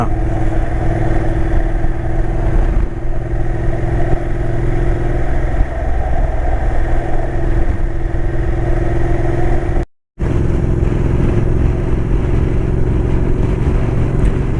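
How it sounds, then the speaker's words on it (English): A motorcycle overtakes on a road in Norway near the Swedish border, a mid-pitched engine revving as it passes. It sits over steady wind and road noise from the vehicle being passed, which continues the whole time, with no talking. "this is the first motorbiker who has overtaken me"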